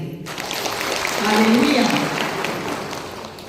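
A church congregation claps loudly together for God, a dense wash of applause swelling through the middle and fading slightly, while a voice calls out over it.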